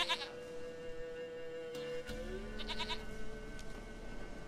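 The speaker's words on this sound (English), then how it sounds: "Goat of mine, dearest, sweetest goat." A goat in The Witcher 3 gives a couple of clear, wavering bleats, one early and one in the middle. Steady low background ambience sits beneath them.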